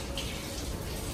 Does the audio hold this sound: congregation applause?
no